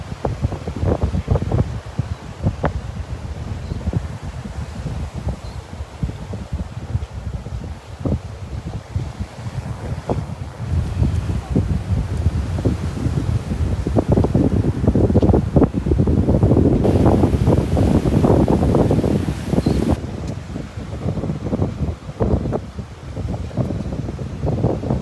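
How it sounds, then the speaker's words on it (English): Strong wind buffeting the microphone in gusty rumbles at the Naples Pier beach on a cloudy morning, with roaring surf behind, growing louder midway and continuing throughout. "on a windy, cloudy Sunday morning."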